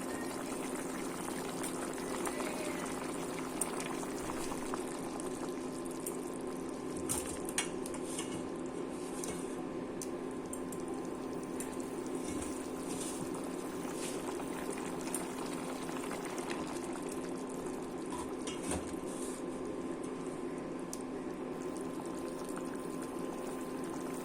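Soy cutlets simmer in a potato curry over low heat, giving a steady, quiet bubbling hiss with occasional faint clinks of a pot and utensil throughout.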